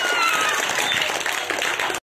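Audience applause greets prize winners at a primary school Children's Day award ceremony, a dense, steady burst of many hands clapping that continues for about two seconds before cutting off.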